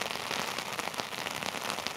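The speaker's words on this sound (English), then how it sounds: "you got rain hitting the umbrella" Heavy rain drums on an umbrella during a downpour on a city street in Norwich, Connecticut, a dense close patter of countless drops with slight surges, no voices.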